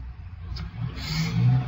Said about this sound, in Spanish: hay mucho ruido, muchos carros pasando